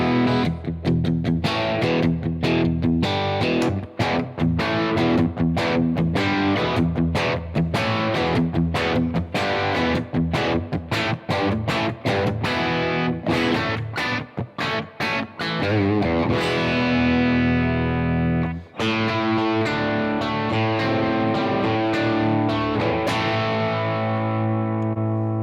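Distorted electric guitar through a Blackstar AMPED 1 power pedal on the EL34 setting plays a long, loud, fast riff of chugging palm-muted notes and chords, then lets a final chord ring out and fade, with no voices.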